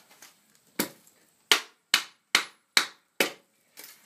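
A hammer strikes a brake backing plate on a junk axle, about seven sharp metallic blows in an irregular rhythm, the middle ones loudest and each ringing briefly before the next.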